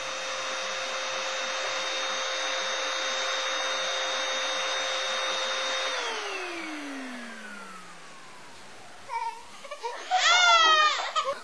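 A vacuum cleaner drones with a steady whine, then winds down and stops, and a baby's cries break out just after it goes quiet.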